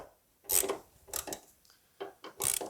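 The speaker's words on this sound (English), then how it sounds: "All right, let's loosen off these bolts." Bolts being loosened on the door of a 1970 Camaro, heard as several short rasping, grinding turns of a tool, close and separated by brief gaps.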